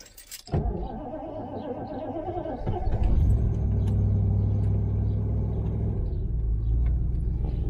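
A 1973 Triumph Stag car engine cranks after a brief rattle of keys and catches, settling into a loud, steady, deep idle rumble that continues close by.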